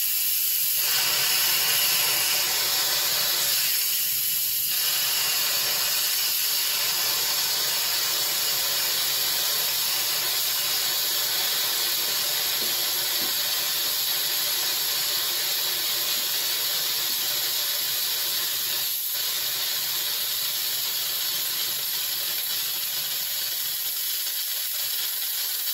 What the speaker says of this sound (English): You do get quite a bit of steam now because there's been no natural release.